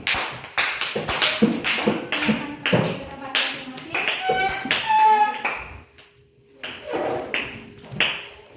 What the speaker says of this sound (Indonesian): Tepuk tangan untuk ketiga temanmu.